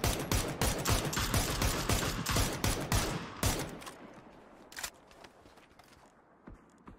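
Rapid gunfire in the PUBG video game, dense bursts of shots for about three seconds that then thin out to a few scattered, fainter reports.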